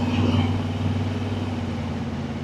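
A hot pickup truck idles with a steady low rumble. It is a bagged, lowered cruiser with an Edelbrock intake and a Holley carburetor. The rumble stays even and close throughout, with a faint hum above it and no talk.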